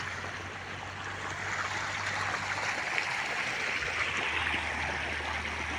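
Irrigation water rushes steadily into a wheat field on a farm, a continuous close gurgling flow that holds at an even level throughout with no voices.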